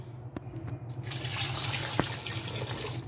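Two cups of water stream steadily into a pressure cooker for mutton curry, a continuous splashing pour close by with no talking.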